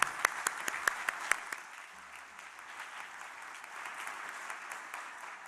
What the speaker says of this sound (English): So please join me in a round of applause to recognize our graduates and guests together.